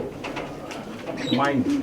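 Racing and performing roller pigeons coo at a club loft in Melbourne, a soft rolling murmur that swells into a clearer burst of cooing near the end, with faint voices in the background.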